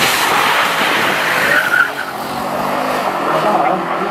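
A 2014 Audi RS7 biturbo with automatic transmission and four-wheel drive racing on an airfield, its loud engine roar and tire squeal sustained as it skids close by.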